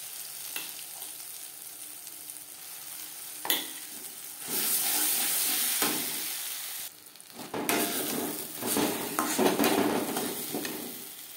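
Something fries in a pan over a low gas flame while asafoetida is added for pea kachori, giving a steady close sizzle with stirring and utensil scrapes and a few brief louder bursts.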